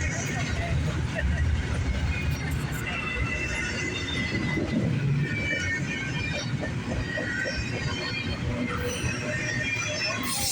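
A long freight train of Amazon and intermodal cars in Troy, Ohio, passes with a continuous, dense rumble and rattle that stays level throughout at a moderate distance.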